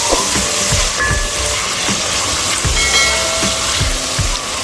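An electric kitchen mixer grinds spices for a Hyderabadi masala chicken curry, a loud, continuous whirring roar with rhythmic thumps from the contents tumbling, close and without talk.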